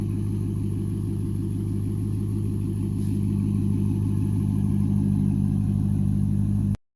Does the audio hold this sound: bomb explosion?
no